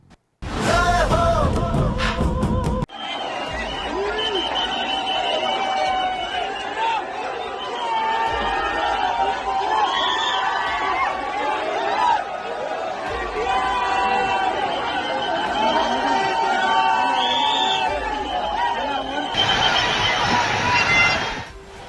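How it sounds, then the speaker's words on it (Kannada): A huge crowd roars and chatters at Team India's T20 World Cup victory road show in Mumbai, amid heavy rain, a dense continuous wall of cheering voices and shouts with whistles and yells, loud and sustained throughout. "ಸಾಗರವೇ ಬೆಚ್ಚುವಂತೆ ಸೇರಿದ್ದ ಜನಸಾಗರ, ಮುಗಿಲು ಮುಟ್ಟಿದ ಹರ್ಷೋದ್ಗಾರ"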